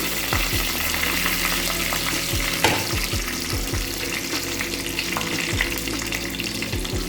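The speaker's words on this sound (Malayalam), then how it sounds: "അതിലേക്ക് നമുക്ക് കറിവേപ്പില ആഡ് ചെയ്യാം." Curry leaves sizzling in hot oil with mustard seeds and fenugreek for a Kerala fish curry, a steady bright crackle and hiss with popping bursts and occasional stirring clinks.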